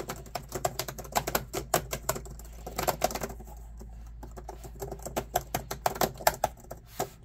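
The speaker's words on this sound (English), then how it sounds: "and you can type on it." Someone types on a new computer keyboard propped on its stand, the close, quick key clicks coming in uneven bursts with a short pause partway through, and no talking.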